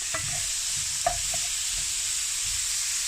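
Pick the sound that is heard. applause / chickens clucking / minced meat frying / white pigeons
minced meat frying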